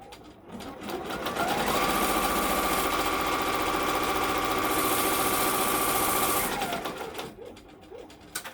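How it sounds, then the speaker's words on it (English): A sewing machine stitches around the outside edge of a fabric piece, a steady, fairly loud mechanical whir running for about five seconds between quieter handling noises, with no talking. "Now it'll stitch around the outside of it."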